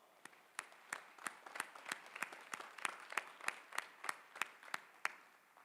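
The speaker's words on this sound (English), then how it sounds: "Give them a round of applause." Faint, distant applause at a university commencement ceremony, with a few distinct rhythmic claps standing out over a soft crowd wash.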